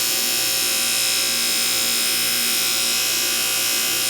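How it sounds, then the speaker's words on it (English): A buffing wheel loaded with emery compound whirs steadily against an old 1916 Speednut wrench, giving a constant bright, dense high-pitched hiss and hum that stays loud and even throughout without talking. "We just put a little bit to load up the wheel with the emery, and then we take it like this"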